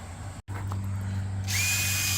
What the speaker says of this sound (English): then we pre-drill the holes in the 2x4s with a wood bit